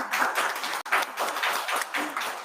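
At a commemoration ceremony celebrating the Jeju-Madeira sister-city relationship, an audience claps in a moderate, fairly steady burst of applause with a brief break near the start, heard somewhat distant and with no talking.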